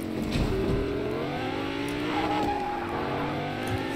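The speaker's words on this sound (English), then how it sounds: "Vroom vroom, I'm in my Lamborghini!" A Lamborghini driving in a video game, its engine a continuous loud drone with shifting pitch and brief tire squeals, heard alone without talk.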